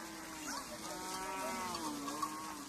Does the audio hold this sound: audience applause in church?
no